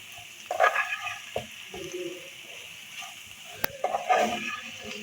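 Chicken roll filling cooks in a pan, with intermittent spatula scrapes and clacks against the metal over a faint sizzle, a few sharp knocks standing out during a few seconds of stirring.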